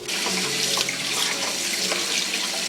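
Pork ribs rinsed under a running kitchen tap, a steady, close, loud stream of water splashing into the sink without a break and with no voices.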